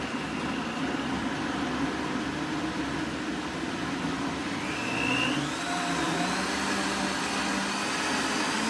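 Countertop blender motor running steadily as its speed knob is slowly turned, giving a loud, continuous whirring roar with a slight rise in pitch midway and vibration in the body, with no voices.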